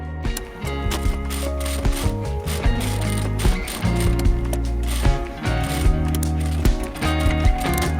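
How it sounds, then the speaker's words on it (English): Sewing machine running a basting stitch along a fabric edge for a sling bag, a loud, close, continuous mechanical whir with rapid rhythmic clatter throughout. "stitch along this edge using a basting stitch"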